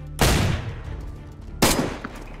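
Two sharp bursts of gunfire in the video game DayZ, each with a ringing tail, spaced about a second and a half apart.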